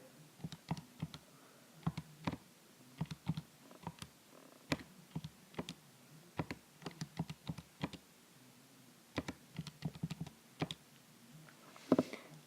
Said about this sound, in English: type this into your calculator